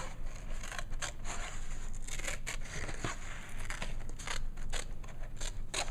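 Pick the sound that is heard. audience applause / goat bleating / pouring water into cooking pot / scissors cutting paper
scissors cutting paper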